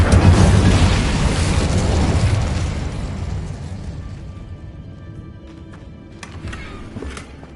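A loud fiery spell blast erupts in Hogwarts Legacy, a broad roaring burst that slowly fades over several seconds with faint magical crackles trailing off.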